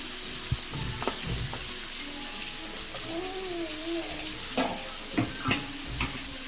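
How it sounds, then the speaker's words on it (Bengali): Fried bhetki fish pieces go into potato and spice masala in a pan, giving a steady close sizzle with scattered clinks and stirring scrapes, several sharper clatters near the end. "ভালো করে কষানো হয়ে গেলে আমি ভেজে রাখা মাছগুলো এতে দিয়ে দেব।"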